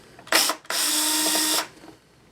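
Two bursts of mechanical whirring, a short one then a longer steady run of about a second, as screws are driven out of the bottom casing of an NEC M300X LCD projector with a power driver, close and fairly loud.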